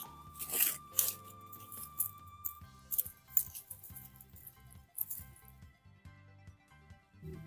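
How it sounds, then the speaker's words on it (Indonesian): A plastic polybag holding a Ficus microcarpa bonsai, already damaged at the bottom, is torn open in a couple of short, crisp ripping bursts near the start, followed by soft rustles over quiet background music. "Sobek saja polybagnya."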